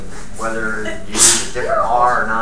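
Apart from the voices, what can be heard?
sneeze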